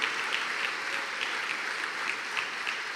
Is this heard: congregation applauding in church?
yes